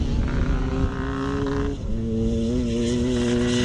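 Yamaha YZ classic motocross motorcycles racing at a Scottish classic motocross round in Strathaven, one bike with an exhaust problem; loud, steady two-stroke engine drone with rising and falling revs as bikes pass close, no talking.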